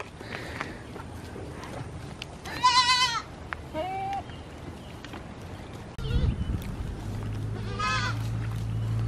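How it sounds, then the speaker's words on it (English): Goats bleat in a few wavering calls, a high quavering cry and a lower one, over outdoor background noise and a steady low rumble. "They're actually not giraffes. These are goats."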